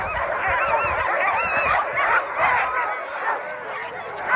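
A team of Alaska sled dogs at the start of the Tug 150 race at Goose Bay Inn bark and yip excitedly, a continuous loud chorus of overlapping high yelps and howls close by.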